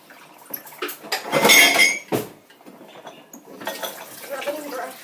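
A brush scrubs a plastic budgie water dish in short rough bursts with clinks and knocks between strokes, close up in a quiet room.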